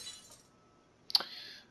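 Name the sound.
glass shattering sound effect in video game The Letter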